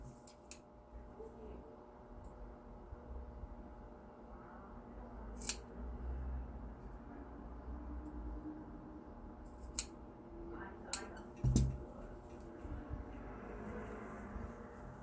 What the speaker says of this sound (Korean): 양쪽 모서리에 가위밥을 바싹 주도록 하겠습니다